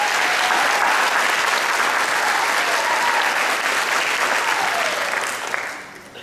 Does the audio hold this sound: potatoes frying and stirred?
no